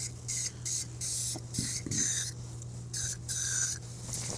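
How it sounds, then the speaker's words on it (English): Short hissing bursts of glue accelerator sprayed onto a deck board, about six quick pulses with brief gaps between them, close and fairly quiet over a low steady hum, with no talk. "All right, so I'm gonna spray some accelerator."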